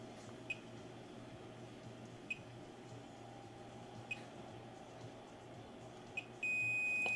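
A multimeter on its diode range tests output transistors in a Denon AVR-X4300H amplifier under repair: four faint, short beeps at roughly two-second intervals over a quiet hum, then a steadier tone at the end.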